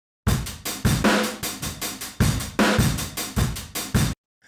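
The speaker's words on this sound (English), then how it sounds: "It's kind of got that like crushed room sound" A crunchy, compressed drum loop with punchy kicks and snares pumps through a roomy, crushed ambience, repeating a steady groove for about four seconds.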